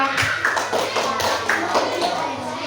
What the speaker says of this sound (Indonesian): Tepuk tangan untuk Mbak Ik5